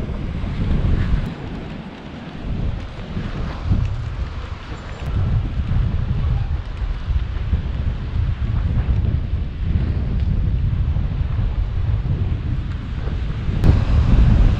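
Strong wind buffets the microphone on the coast of Crete, Greece, with big ocean waves surging below in a steady, loud roar that swells and eases without any break.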